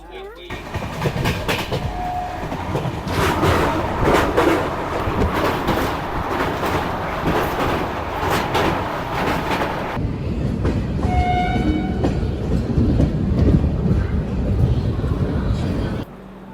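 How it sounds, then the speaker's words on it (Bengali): Puri-Howrah Shatabdi Express rolling along the tracks, a steady loud rumble with faint rhythmic rail clatter and a brief distant horn-like tone, continuing throughout with a shift in tone partway through as the train nears Cuttack. "আমাদের ট্রেনটা পৌঁছে গেল কটক"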